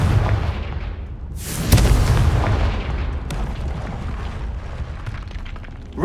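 A Confringo fire-spell explosion in Hogwarts Legacy bursts with a loud booming blast and rumbling tail, followed by lingering crackles and a smaller later pop, over a dense game ambience.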